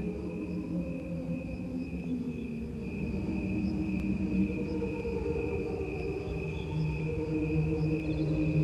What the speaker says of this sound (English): the cricket sounds were slowed down to the same relationship with their lifespan to our lifespan